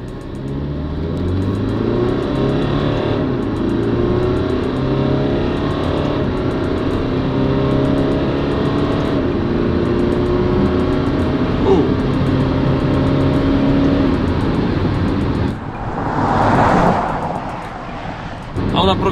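An Alfa Romeo Stelvio Q4 SUV with an eight-speed automatic accelerates hard past 100 km/h, its engine note climbing in pitch under steady cabin rumble, with a shift-like dip near the end.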